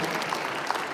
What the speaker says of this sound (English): a big round of applause for all of our wellness competitors to this afternoon at the Sampson Showdown